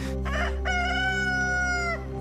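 A rooster crows one long, clear call from a backyard chicken coop, close and loud over a steady low hum.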